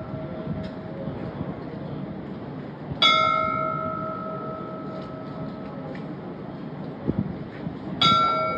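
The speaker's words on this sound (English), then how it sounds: "there is an angel mannequin that comes out to strike the bell just like this" Tbilisi clock tower bell struck by an angel mannequin, two clear ringing strikes a few seconds apart, each with a bright metallic ring that decays slowly over quiet outdoor street ambience.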